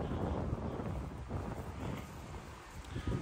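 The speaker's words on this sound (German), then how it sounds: "Windig, sehr windig." Wind gusting on a city street on Sonnenallee in Neukölln, Berlin, a steady broadband roar of wind buffeting the microphone that holds at an even level for the whole stretch, with no talk.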